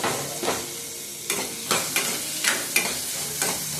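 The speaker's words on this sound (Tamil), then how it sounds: "நல்லா வதக்கிக்கோங்க. வெங்காயம் நல்லா வதங்கிடுச்சு." Onion and curry leaves sauté in a pan for sambar. A continuous close sizzle runs under rhythmic spoon scrapes that come about every half second, with no talking.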